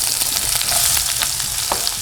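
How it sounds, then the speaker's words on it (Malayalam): Onions frying in a pan while cooking food, a steady broadband sizzle with occasional crackles and stirring sounds, close and fairly loud with no talk. "അപ്പൊ നമ്മൾ ഇതിലേക്ക് ഉള്ളി ഇട്ട് കൊടുക്കാം."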